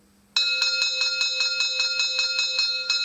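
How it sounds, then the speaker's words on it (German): A Märklin 37899 Christmas model steam locomotive with mfx digital sound rings its bell in a steady, even series of clear metallic strikes, about three per second, loud and alone. "Unter F9 haben wir die Glocke."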